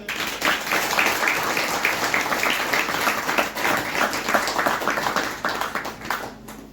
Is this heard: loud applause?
yes